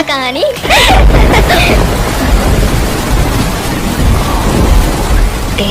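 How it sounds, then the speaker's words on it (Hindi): A heavy thunderstorm roars in, a loud, dense wash of pouring rain with low rumbling underneath that keeps going. A brief voice-like tone sounds just before it starts. "बहुत बड़ा तूफान है"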